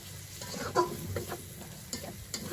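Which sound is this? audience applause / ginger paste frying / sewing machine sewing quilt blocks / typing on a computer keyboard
ginger paste frying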